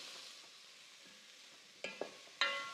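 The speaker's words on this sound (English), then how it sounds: "Let's just stir that all together." Food is stirred in a pan while cooking sweet potato with chipotle, a quiet background hiss broken by a few sharp scraping clicks near the end.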